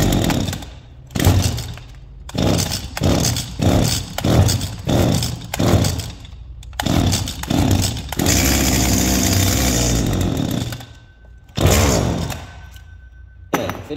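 A STIHL KA 85 R cut-off saw with a broken shaft is started and revved, its engine roaring in repeated loud bursts and then holding one long sustained rev before dropping back to idle, close up and without speech.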